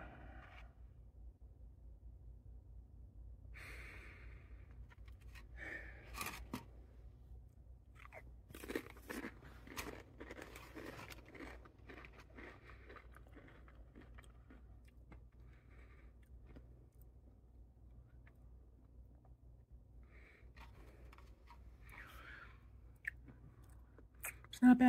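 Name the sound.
eating pizza flavored Pringles chips, crunching and chewing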